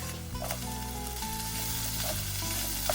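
Sliced peppers fry with onions in olive oil, giving a dense, even sizzle close by with occasional soft stirring pops and a low hum underneath, and no talking.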